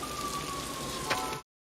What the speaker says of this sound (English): It hasn't stopped raining yet.